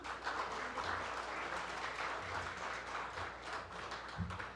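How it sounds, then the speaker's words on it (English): A large audience at the DOST-PCAARRD 50th anniversary ceremony applauds its staff with a steady, diffuse wash of clapping, heard somewhat distant and sustained throughout. "You all deserve a round of applause."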